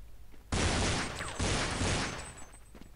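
Rapid gunfire in the video game Counter-Strike forms a loud, dense burst of shots lasting about two seconds, with a brief dip midway, then fades into quiet.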